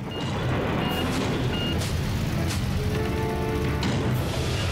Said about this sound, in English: I do enjoy that Mr. Slam beep beeps when it tries to back up.